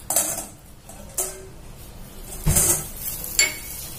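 Softened, blanched glass noodles being moved into a bowl, with several clinks and clatters of utensils against dishes and soft wet handling sounds in between, fairly close.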